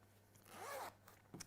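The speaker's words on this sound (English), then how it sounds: "Take that zip up to the top." A zip on a freshly sewn garment pulled up in one quick, close, rasping stroke, quiet overall, with small handling clicks after it and no talk.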